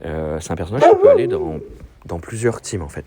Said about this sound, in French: excusez-moi pour le chien.